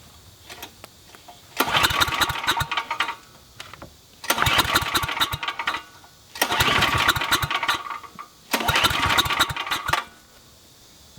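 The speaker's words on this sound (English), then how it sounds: "I'm going to crank this generator up and we'll see how well these lights work" A generator engine being cranked, with four separate bursts of loud sputtering motor noise, each lasting about two seconds and separated by quiet gaps, as the engine tries to start but fails to catch.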